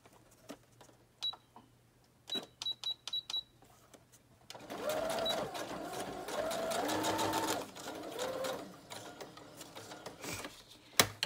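A sewing machine stitching fabric, first a few short bursts of needle clatter with pauses, then a longer steady whirring run, close by with no talk.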